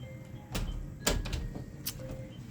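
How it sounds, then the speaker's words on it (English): A bedroom door shut in a quiet home in the early morning: a couple of sharp knocks and a louder latch click, near, with soft rustling between and no talk. "Shut our door here."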